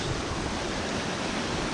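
Steady broadband rushing of stream water on the Appalachian Trail, close and constant, with no pauses and no talk.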